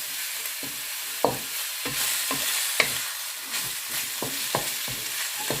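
Boiled chicken tossed with pancit ingredients in a pan, a soft background sizzle broken by repeated scraping and clacking stirring strokes at an irregular rhythm.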